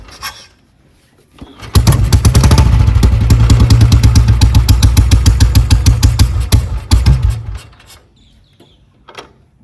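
A Bullet motorcycle fitted with a tractor silencer is started and runs with a loud, rapid thumping exhaust beat for several seconds before cutting off, with quiet noise before and after.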